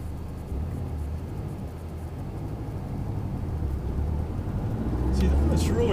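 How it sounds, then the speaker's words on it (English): A 2004 Subaru WRX's engine revs a little high as it pulls away from a stop, with the clutch juddering: a steady low rumble that swells louder near the end. "you'll kind of notice me just kind of revving it a little bit higher than you would normally, just when I'm taking off"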